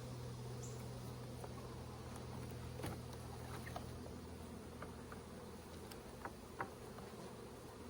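Honey bees drone faintly and steadily around a hive as honey frames are pulled, with a few soft clicks and knocks over the buzzing.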